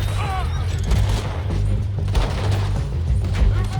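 Gunfire in Red Dead Redemption 2, several dull booming shots and thumps over a low rumbling background, with talk running over them.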